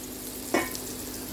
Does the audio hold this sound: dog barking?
no